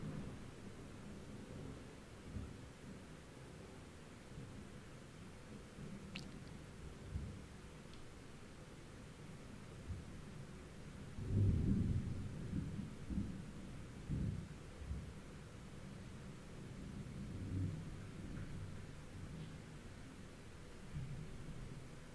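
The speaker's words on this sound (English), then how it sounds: "Anyway, that was lightning." Thunder from lightning during a storm, a low distant rumble swelling and rolling for several seconds amid steady rain-like noise, with no talk.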